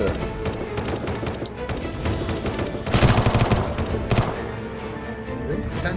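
Rapid bursts of gunfire in the zombie survival game Surroundead, dense repeated shots crackling continuously with a heavier cluster of blasts near the middle, loud and close.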